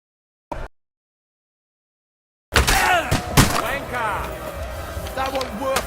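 Game gunfire and battle noise from Kingdom Come Deliverance II, a dense, loud burst of shots and clashing that erupts after a short blip and near silence, then continues steadily under shouting voices.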